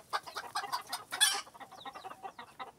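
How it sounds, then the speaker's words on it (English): Many hens on a farm with hen houses cluck and squawk together, busy overlapping calls with a sharp louder cry in the middle, fairly close and continuous. "It's a hen."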